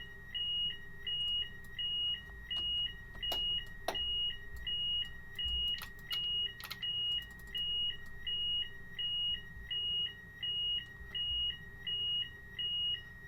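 Train cab warning alarm from a Class 800 Azuma in Train Sim World 2022 keeps beeping in an even two-tone pulse for many seconds over a low engine hum, with occasional faint clicks.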